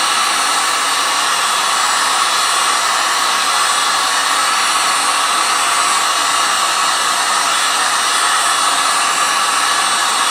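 A hot air tool blows steadily and loudly on a Halloween prop's thumb while it heats the material. The airflow makes an unbroken, close whoosh with no talk over it.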